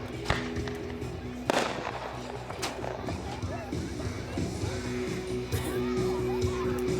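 A fireworks cake fires 515B shells in a string of sharp outdoor pops and bangs, a couple standing out loudly, with people talking and a crowd murmuring throughout.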